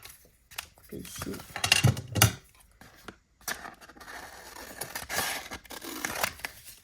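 Scissors cut through paper or card at close range in a series of crisp snips and slicing strokes, some louder than others, with small handling noises between cuts.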